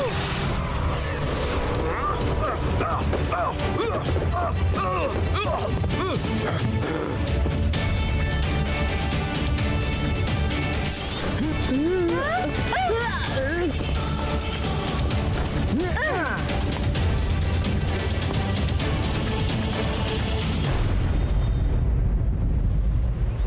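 Cartoon firecracker explosions from an animated action show, a dense, loud run of crackling bangs, whistles and booms packed together for many seconds before fading out.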